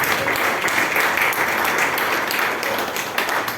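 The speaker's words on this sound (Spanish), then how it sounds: "te damos un fuerte aplauso" A church congregation gives sustained applause during a revival service, an even wash of many hands clapping continuously at a steady level.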